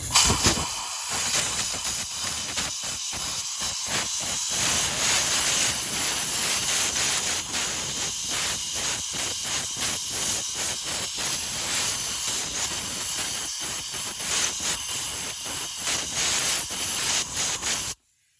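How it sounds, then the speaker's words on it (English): Compressed air blasts steadily into the intake valve area of a direct-injected engine during hand valve cleaning, a loud continuous hiss with brief dips and pauses, close to the microphone. "it's safe to take my compressed air and go ahead and air it out"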